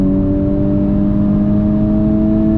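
A Honda Civic Type R FK8 pulls hard at full throttle in second gear, its engine droning loud and steady with a rising whine heard from inside the cabin.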